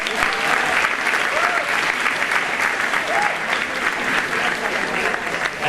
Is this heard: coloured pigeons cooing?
no